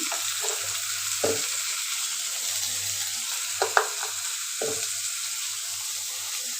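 Bottle gourd and potatoes are stir-fried in a pan with sugar and sauce, giving a steady low sizzle punctuated by a few spatula scrapes and knocks, close up with no voices.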